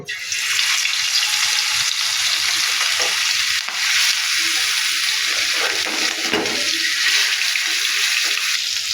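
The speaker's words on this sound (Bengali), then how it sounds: "এবার এক এক করে সব মাছগুলি তাওয়ার মাঝে দিয়ে দেব" Hilsa fish pieces laid one by one onto hot oil on a tawa produce a loud, dense, unbroken sizzle, close and steady with only slight dips; nobody talks.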